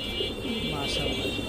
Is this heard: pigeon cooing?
yes